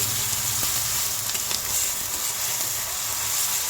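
Garlic and green chilli paste frying with ginger paste in a pan for doi katla, a steady close sizzle and hiss with a few soft scrapes of stirring, no voices.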